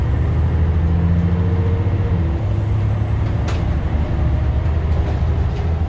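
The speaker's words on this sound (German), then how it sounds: "Und einen schönen Motor, der geht ab." A MAN A20 city bus engine runs with a deep steady diesel rumble and a mid-pitched drone that shifts partway through, close and continuous with no talk.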